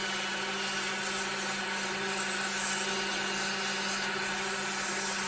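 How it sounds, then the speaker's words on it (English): Steady, continuous rasping of 150-grit sandpaper scrubbing over a wooden ornament being turned, an even abrasive hiss that holds without a break for several seconds, close by. "We're going to hit this with some sandpaper."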